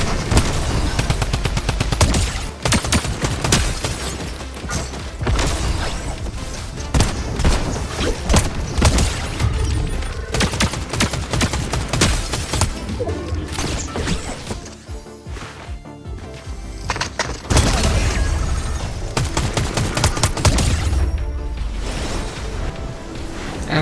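Gunfire from a Midas drum gun in the Fortnite game: long, loud bursts of rapid automatic shots with brief pauses and sharp hits, continuing through most of the stretch.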